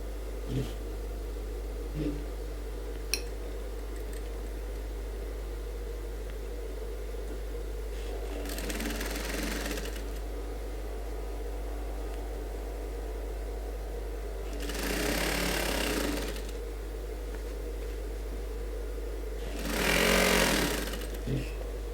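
A sewing machine stitches a suit in three separate bursts of rapid stitching, each a few seconds long, close by, over a constant low electrical hum with quiet handling sounds in between.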